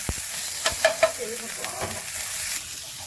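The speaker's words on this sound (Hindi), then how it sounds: "पूरा खाना बन चुका है, तो दाल फ्राई कर रहे हैं।" Dal frying in a pan gives a soft, steady sizzle and hiss at close range. A few light clinks and stirring scrapes sound early on. No one speaks.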